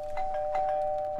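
Doorbell in the video game Mafia 2 sounding a steady sustained chime tone with faint ding pulses, moderate level, no speech over it.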